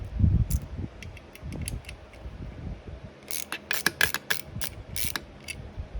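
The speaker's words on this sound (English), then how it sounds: "I should be able to come in here with a ratchet" A ratchet wrench works on an antique Delco motor being repaired, with fast bursts of crisp metallic clicks, first lighter and spaced, then a dense rapid run close to the mic, with some low handling bumps.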